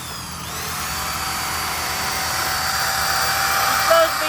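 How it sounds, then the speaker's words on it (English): A power drill whirs continuously against the body of a Toyota Highlander in a garage shop, a steady broadband drone that holds at a constant level close by, with no talk over it. "You're supposed to be taking paint off, not drilling holes in it."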